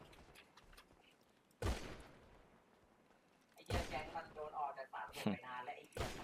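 Video game gunfire in a tense shootout round, with sharp broadband bursts arriving in a few separate volleys, the later ones denser and more sustained, over quiet game ambience with voices talking nearby.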